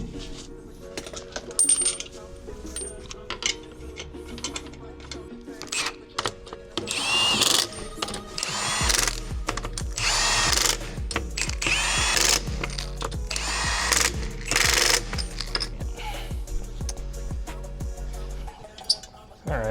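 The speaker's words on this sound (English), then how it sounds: "I just got the caliper bolts loose though. This little impact is absolute godsend." A small impact wrench loosens the brake caliper bolts on a Honda Odyssey. Light metallic clinks and clicks come first, then a run of loud, rapid hammering bursts of varying length fills the second half, close to the listener.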